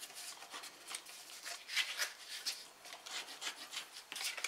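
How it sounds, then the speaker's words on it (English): Paper score lines being folded and burnished by hand while crafting table favours, soft rubbing and swishing strokes in quick, irregular bursts, close and quiet, with no speech. "Now we can fold and burnish all of these score lines."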